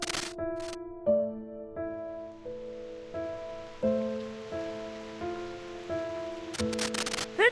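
Steady rain hiss in the video game Reverse:1999, falling under a slow melodic music track of sustained tonal notes throughout.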